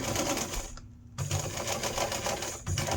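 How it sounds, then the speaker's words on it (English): A sewing machine runs steadily through layers of fleece and elastic, its fast, rattling stitch rhythm close and loud, pausing briefly mid-way before resuming. "now I can stitch this closed and stitch all those layers together"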